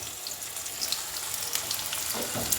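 Onions and tomatoes fry in oil in a wok, a continuous close sizzle with scattered crackles that grows busier and louder toward the end, no voices.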